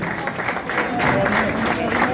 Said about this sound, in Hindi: बंदे बहुत ज्यादा मौजूद हैं लेकिन तालियां बहुत कम है।